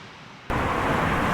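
A car passes close by outdoors on a windy road, rising suddenly from quiet into a loud broadband whoosh that holds steady to the end.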